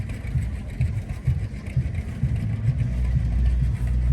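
A 1946 Oliver 70 row crop tractor engine running at an antique tractor show and parade, a steady low chugging rumble that grows slightly louder and nearer toward the end.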